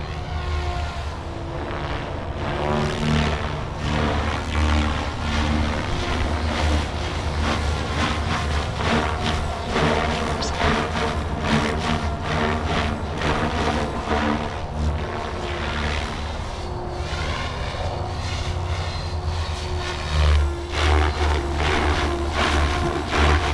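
An RS5 RC helicopter spins up and flies on its first flight after a crash repair, giving a continuous loud rotor and motor whine with buzzy turbulence that swells and eases as it moves.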